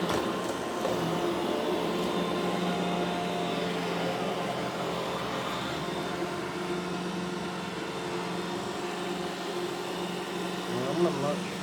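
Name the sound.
iRobot Roomba e5 robot vacuum cleaner running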